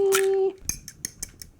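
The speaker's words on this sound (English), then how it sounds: "You can kind of whisk it up." A metal fork whisks an egg in a container, giving a series of quick, light clinking taps after a brief steady tone at the start, close and fairly faint, with no one talking.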